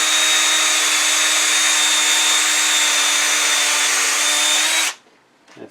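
An electric drill set to drill mode bores a hole into the top of a turned wooden pear, a loud, steady high-pitched whine held for about five seconds before stopping abruptly.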